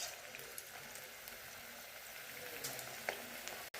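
Onion bhaji (kanda bhaji) dropped by hand into hot oil in a kadhai, frying with a faint, steady bubbling sizzle and an occasional small pop.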